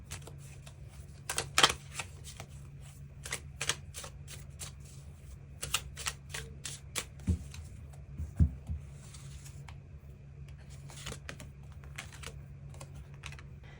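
Tarot cards being shuffled, a close run of quick dry riffling clicks and soft papery slaps, with bursts of denser activity and brief pauses, heard alone without talking.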